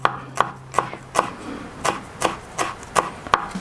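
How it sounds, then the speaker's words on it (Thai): Green onions sliced finely with a knife on a cutting board for fried pork larb, a series of crisp, close chops in an uneven rhythm, about a dozen sharp strikes, no voices. "ต้นหอมซอยก็ซอยละเอียดเหมือนกันนะครับ"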